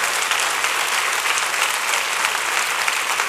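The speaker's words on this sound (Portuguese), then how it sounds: "Aplauda o Senhor, porque só Ele é digno." A church congregation applauds steadily and loudly, a dense, even wash of clapping that fills the whole stretch without pause or spoken words.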